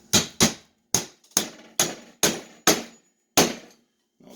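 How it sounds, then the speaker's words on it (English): A 13-ounce hammer taps a nail into a wooden beehive frame, giving about eight sharp, close strikes in a steady rhythm with a pause before the final hit. "I'm pulling it back and I'm just tapping into that nail and driving it in just a hair"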